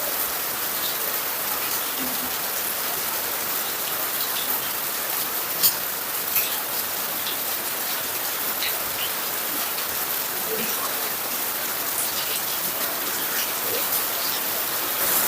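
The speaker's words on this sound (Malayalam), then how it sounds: "അതാ മഴ പെയ്തോ?" Steady rain pouring down in a rural yard, a dense even hiss of drops on surfaces throughout, close and continuous with no break.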